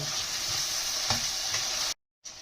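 Chopped tomatoes and green garlic fry in a pan with a steady close sizzle and faint stirring scrapes, with a brief silent gap near the end.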